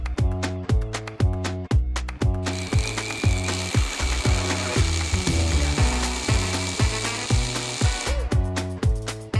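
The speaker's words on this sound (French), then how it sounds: "Je réalise les 2 premiers trous et là-dessus, RAS, ça se passe très bien, le perfo tape bien" A Hikoki DH3628DA rotary hammer with a 12 mm SDS bit drills into a concrete block, producing loud, rapid, evenly pulsed hammering that runs continuously with no speech.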